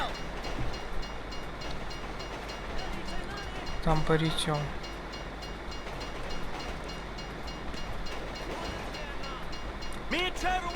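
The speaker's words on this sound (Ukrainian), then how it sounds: "Зараз хай потяг проїде, подивимося, що буде." A passing train in GTA 5 rumbles and clatters steadily at mid distance, with a short horn blast partway through, under intermittent talk.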